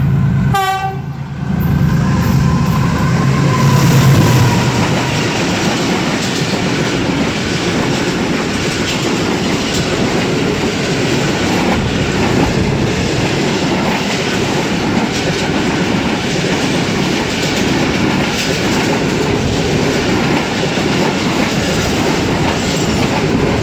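Shah Hussain Express train on the Lahore to Karachi line rolls steadily along the rails, a loud continuous rumble with rhythmic clatter and a brief horn-like tone near the start, no talking.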